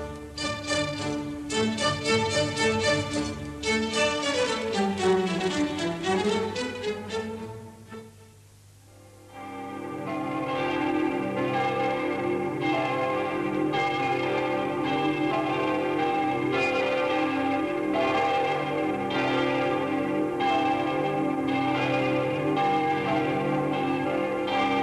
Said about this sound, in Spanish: también en la Colegiata de Tremp, en la provincia de Lérida, repicarán hoy todas las campanas